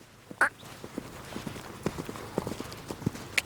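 A horse moves about on foot during groundwork training, its hooves striking the ground in irregular soft thuds with a few sharper knocks, fairly faint and close, with no talk over it.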